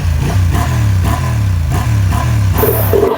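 A Honda XL750 Transalp middleweight adventure motorcycle with a warm engine revs loudly and close by, rising in several repeated throttle blips over a steady idle rumble, with no voices.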